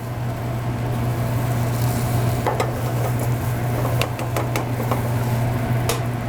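An egg cooks on a hot cafe griddle with a constant low sizzle under a steady hum, broken by a few light scraping clicks of a spatula near the end.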